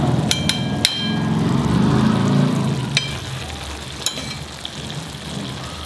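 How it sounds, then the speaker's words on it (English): Brinjal cooking in a pan over a medium-high flame, giving a soft, steady sizzle broken by a few sharp clicks and taps of a utensil, moderately close with no voices. "Now you know this vegetable is cooking on medium-high flame."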